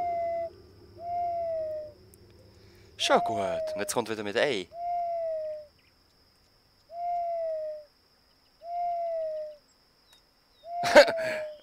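A bird character in the video game Harveys neue Augen gives short, evenly spaced hooting calls, each a smooth tone, repeated several times with gaps, while someone talks loudly in German between them.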